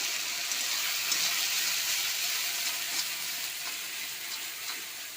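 Ground ginger, garlic and white mustard paste fry in hot mustard oil, producing a constant bright sizzle and crackle with faint stirring scrapes throughout.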